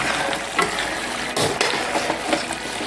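Jamaican-style brown stew pork bubbles in a pot, with a close, steady simmering hiss broken by sharp pops and scraping stirs from a spoon. No one speaks.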